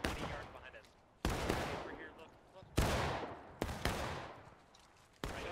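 Massed musket volleys ring out in a Civil War video game battle: several loud, sharp reports at irregular intervals, each trailing off in a long rolling echo, with crackling fire between them.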